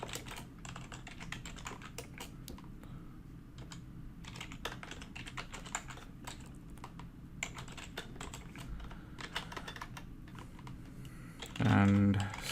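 Steady computer keyboard typing while Linux kernel module code is written, a quick run of close keystrokes throughout, with a brief spoken word near the end.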